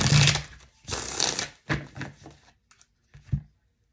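A deck of cards is shuffled in several quick riffling bursts, close and crisp, each ending in a soft tap as the cards settle, then a few light clicks before quiet.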